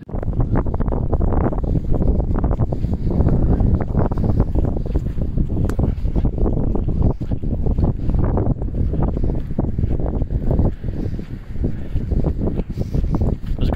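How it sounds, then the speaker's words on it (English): Strong wind buffets a coastal cliff path near a lighthouse, a loud continuous roar with heavy gusting rumble pressing against the microphone throughout. "I'll have to lean into it with this wind"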